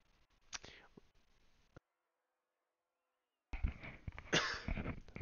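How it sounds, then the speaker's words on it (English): A single sharp cough, close and fairly loud, breaks the quiet near the start, with a faint follow-up sound and a long silence before a louder burst of game or background noise returns. "Sorry guys, I had a cough."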